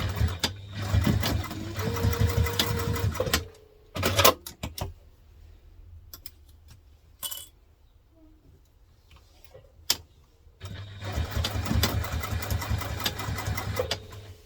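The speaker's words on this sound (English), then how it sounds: "We're going to stitch as close to the edge here as we can, making sure we are on our top stitch length." A sewing machine stitches right along the edge of fabric for a crosspack bag at top stitch length, running in two steady close bursts with a quieter pause of handling clicks between them.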